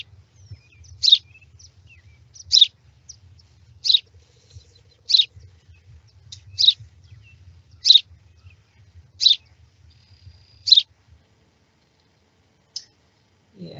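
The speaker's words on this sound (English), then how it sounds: "So that is our house sparrow." A house sparrow sings a simple, repetitive song: short chirps repeated at regular intervals of roughly a second and a half, fairly close and clear, over a low background rumble that drops away near the end.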